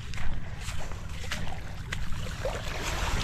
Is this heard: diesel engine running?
yes